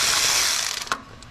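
A ratchet wrench loosens a hose clamp on the engine intake of a 2002 Chrysler Town and Country minivan, giving a short, close, buzzing ratchet whir that tapers off after about a second.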